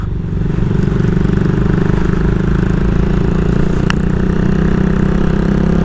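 A motorcycle engine running loud and close on a hill road near Kaptai, holding a steady mid-pitched drone with a brief clatter partway through as gears are worked, with no voices over it.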